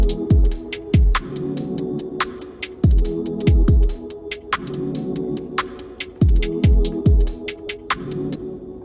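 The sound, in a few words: atmospheric synth stabs in a UKG drill track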